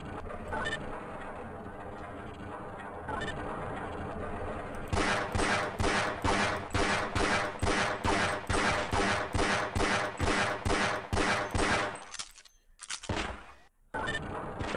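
Rapid, evenly spaced gunshots at a firing range in Half-Life: Blue Shift, about twenty loud close cracks in a steady rhythm after a quieter lead-in, then a short pause and a final shot.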